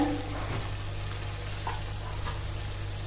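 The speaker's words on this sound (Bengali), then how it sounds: "আমাদের পেঁয়াজটাও অনেকটা ভাজা হয়ে গেছে, সফট হয়ে গেছে। এবার লো ফ্লেমে কিন্তু আরেকটু ভেজে নেব।" Softened onions fry over a low flame in a curry pan, a close, even sizzle and crackle with a steady low hum underneath and no talking.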